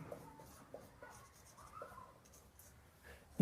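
Pen or marker writing a syllabus heading for a UP Board Class 10 chemistry lesson, a faint, steady scratchy stroking sound with short pauses between strokes, recorded close and quiet with no talking.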